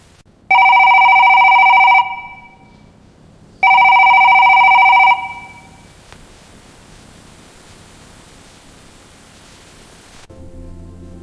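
A telephone rings twice in long electronic bursts, loud and close, then stops, leaving only faint background hiss; nobody answers.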